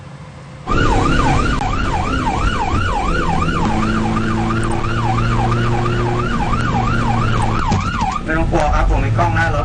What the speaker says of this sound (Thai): ได้ยินเสียงสัญญาณของรถพยาบาล